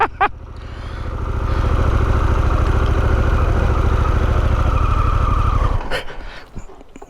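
A new Harley-Davidson Pan America motorcycle engine idles close by with a steady, throbbing low rumble that swells slightly after starting, then cuts off near the end, followed by a brief click and fading ring.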